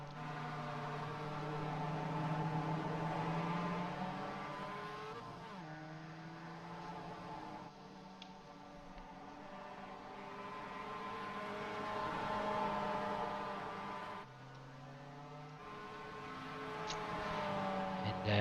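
The number 32 race car laps Tsukuba Circuit in iRacing, its engine droning steadily and rising through the revs, then dropping sharply at several gear changes or braking points across a long, continuous run.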